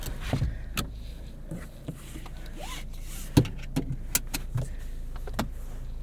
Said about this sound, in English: Auto up-down windows for the front passengers